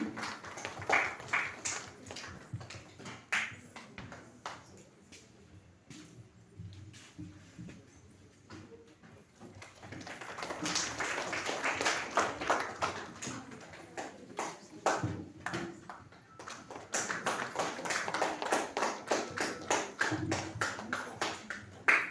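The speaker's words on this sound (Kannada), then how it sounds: "ಎಲ್ಲರೂ ಚಪ್ಪಾಳೆಯ ಮೂಲಕ ಉತ್ತೇಜಿಸಬೇಕಾಗಿ ವಿನಂತಿ" An audience at a Kannada literary conference claps in encouragement, a dense patter of many hands that rises in two long bursts separated by a quieter stretch.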